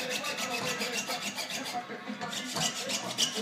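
A hand saw cutting by hand through rattan cane a few millimetres thick, giving a steady rasping, rubbing stroke in an even back-and-forth rhythm, close and moderately loud.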